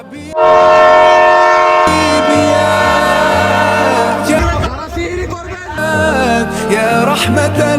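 At Bhairab station, a loud train horn blares close by over the rumble and clatter of a passing train, then the rolling noise continues with another horn blast.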